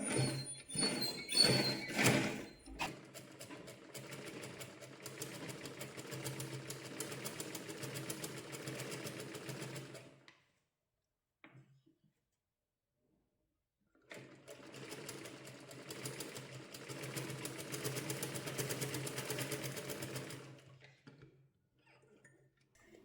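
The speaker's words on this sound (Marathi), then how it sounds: "त्यानंतर इथे शिलाई टाकायची आहे शोल्डरच्या जवळ" Sewing machine stitching near the shoulder of a katori blouse: a quick burst of stitches, then a long steady whirring run, a pause of near silence, and a second sustained run before it stops.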